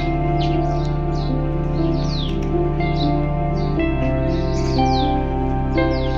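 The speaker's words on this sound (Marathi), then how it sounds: "फक्त पक्ष्यांचा आवाज येतो" Small birds tweet in quick, repeated bursts around a temple with a carved stone Hanuman statue, the chirps rising above a constant low hum with a slight echo, no voices heard.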